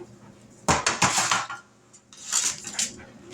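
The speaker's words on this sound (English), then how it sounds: "Now, time to get the pan." A metal pan is pulled out with two bursts of loud clanking and rattling of pots and utensils, close by and with no talk.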